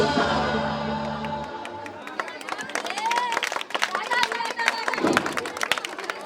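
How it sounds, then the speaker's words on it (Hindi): A crowd breaks into steady, lively applause of welcome with some cheering, right after a patriotic song ends, the clapping continuing to the end with voices mixed in. "तालियों से स्वागत।"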